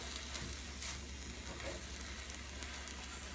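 Red amaranth and other leafy greens fry together in a pan with a steady, close, dense sizzle and crackle throughout.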